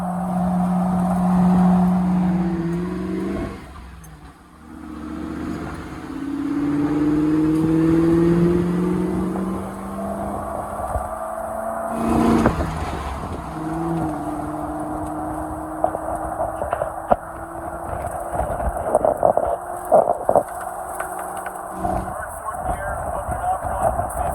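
A 1995 Land Rover NAS Defender 90 engine pulls through the gears at around 35 to 40 mph, rising whine then drop at a shift, loud and close, with someone talking over it.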